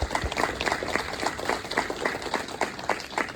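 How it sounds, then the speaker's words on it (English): An audience claps for themselves at the close of a championship public speaking address, a steady, moderately distant patter of many hands with no voices over it. "please, clap hands for yourself"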